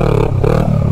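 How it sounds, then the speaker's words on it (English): A Honda Rebel 500 motorcycle revs hard during a wheelie, giving a loud, steady engine drone with a brief dip in the middle, heard alone and close. "I'm gonna do a wheelie."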